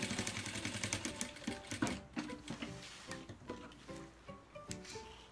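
Sewing machine stitching fabric for a men's toiletry bag with dividers, a steady close mechanical whir with rapid rhythmic needle ticks that runs continuously, slowing slightly toward the end, with no talking over it.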